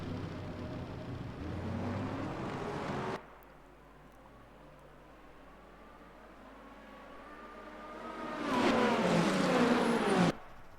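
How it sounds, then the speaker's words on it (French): Race cars start an endurance race at Le Mans with a loud, blended engine roar that gives way to a quieter, distant rumble, then surges again as the pack sweeps past before cutting off. "Allez, ça va partir. Mesdames et messieurs, montez le volume et on se retrouve après le premier virage."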